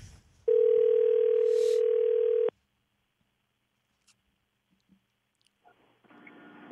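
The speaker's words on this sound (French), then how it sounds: "Ça va sonner." An outgoing telephone call gives a single long ringback tone of about two seconds, clear and steady, then near silence with a few faint clicks before low noise returns at the end.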